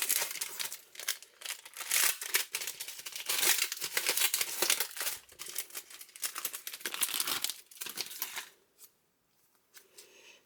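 A plastic Futera FX trading card pack is crinkled and torn open, with dense, loud crackling close up for about eight seconds before it falls quiet.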